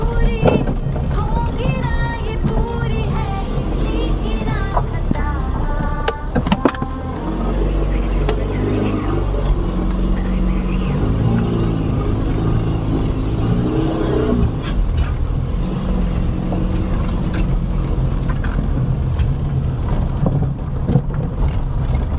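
Car engine labouring as the vehicle climbs a steep hill road near Pune, a sustained drone with shifting revs and rumble, recorded from inside with occasional voices.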